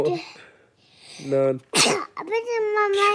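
A young child's sharp sneeze, sounding close amid child and adult chatter.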